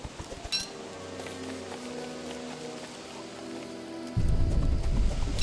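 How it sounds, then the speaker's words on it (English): Rain falls on the first day in the video game Don't Starve Reign of Giants, a soft, continuous patter over low game ambience that swells into a heavier, louder downpour near the end. "Oh, and it's raining on the first day."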